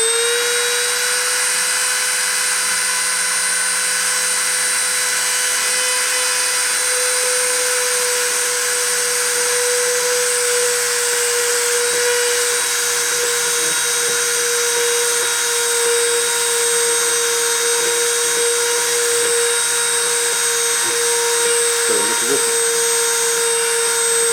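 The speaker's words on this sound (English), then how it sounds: "I'm going to start the spindle and start the deposition" A machining spindle runs steadily throughout a deposition pass along a 10 millimetre track, giving a loud continuous whine with a high steady tone and a layered mechanical hum, with brief shifts near the end.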